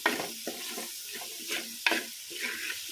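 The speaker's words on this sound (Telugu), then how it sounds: "టమాటా వేసుకోవాలి టమాటా వేసేస్తున్నాం" Small tomatoes dropped into a hot frying pan give bursts of sizzle and spattering, with stirring scrapes between the hisses at close range.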